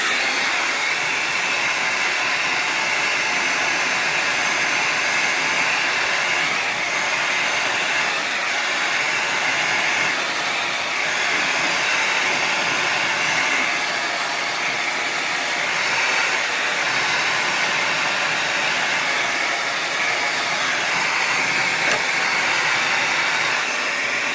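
A T3 Aire IQ blow dryer runs on its quick dry setting, a loud steady airy whoosh held close and unbroken throughout, with no talking.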